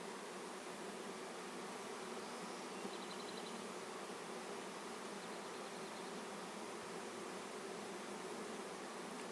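Honeybee swarm buzzing steadily around a hive on a ranch, a dense continuous insect drone filling the whole stretch with no break.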